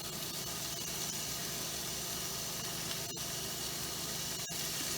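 Two pounds of ground beef sizzling in an already hot pan, a steady loud hiss and crackle holding evenly throughout, with a couple of brief dropouts.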